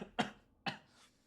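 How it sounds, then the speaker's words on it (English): Two short, sharp coughs from one person, close and fairly loud, about half a second apart, with no talk around them. "I couldn't say that without coughing."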